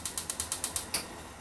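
A gas stove igniter clicks rapidly about eight times in quick even succession while a burner is lit under a pot of ginger and Coca-Cola, close and crisp over a steady hiss.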